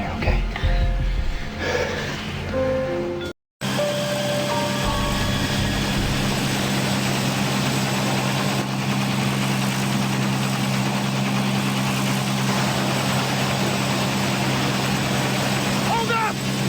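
A helicopter engine idles in a steady, loud drone that runs throughout, with voices heard over it.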